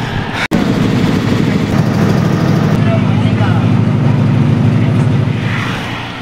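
A passenger launch's engine pulls away from Ilisha launch ghat as a steady, loud low rumble with a droning hum that runs unbroken throughout, with one sharp click near the start.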